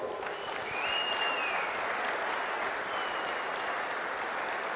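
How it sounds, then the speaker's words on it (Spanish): A crowd at a national labor congress breaks into strong, continuous applause. Dense clapping holds at an even, loud level, with a faint whistle rising briefly above it. "para ustedes pido un fuerte aplauso"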